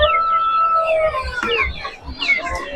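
Chickens cluck and chatter at the busy Sabunçu poultry market, with several birds calling in overlapping bursts close by over low market background noise.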